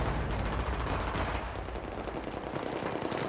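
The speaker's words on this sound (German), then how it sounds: "geht der Schuss voll daneben" Rapid bursts of gunfire from the video game Battlefield 3 crackle continuously in a dense, loud barrage, like an automatic weapon firing alongside other shots.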